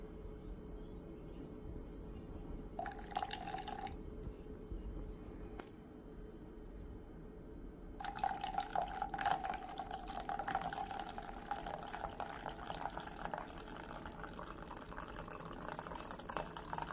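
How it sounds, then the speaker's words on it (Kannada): Coffee decoction pours into a cup of milk and sugar in two bursts of splashing liquid, a short one early and a longer, steadier stream after a pause, close and fairly quiet over a faint background hum. "ಇವಾಗ ಡಿಕಾಕ್ಷನ್ ಹಾಕೋಣ"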